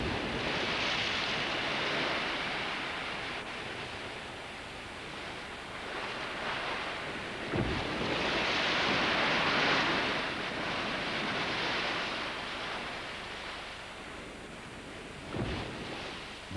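Ocean surf at Penguin Island: continuous broadband wash of waves with a few sharper breaking crashes rising and falling over about seventeen seconds, blended with wind.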